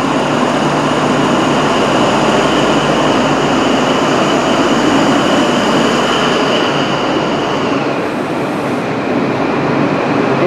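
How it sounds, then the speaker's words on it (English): An East Midlands Trains HST powered by a Valenta engine: a steady, loud, continuous rumble and drone with a sustained whine and rail noise, unbroken throughout, at a station. "This is the first shot of an East Midlands Trains HST for me. Valenta engine, first ever time as well since I was little."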